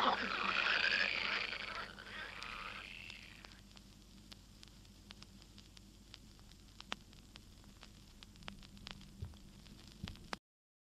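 Frogs croak in a pond as a dense, loud chorus for the first few seconds, then thin to faint, scattered clicks and calls over a quiet background.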